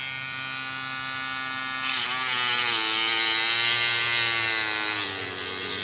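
Dremel rotary tool bit spinning while working a themed community lock: a steady high-pitched motor whine that climbs in pitch partway through and then eases off slightly, close and continuous with no talk.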